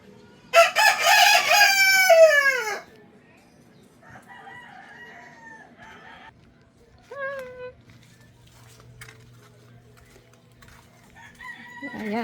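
Chickens and roosters on a property, a loud nearby crow at the start followed by scattered fainter clucks and calls, with a voice speaking quietly in between.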